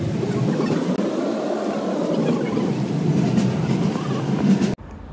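Inside the Kamakhyapuri Express between Barpeta Road and NJP, a running train gives a loud continuous rumble and rattle close around, cutting abruptly to quieter sound at the end.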